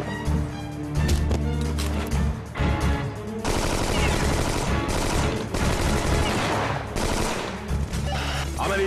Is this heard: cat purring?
no